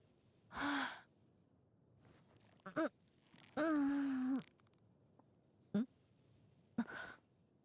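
A female character in the Genshin Impact video game yawning, a voiced breathy yawn with drawn-out tonal sighs and gasps in several separate bursts across the clip, fairly close, with no talk.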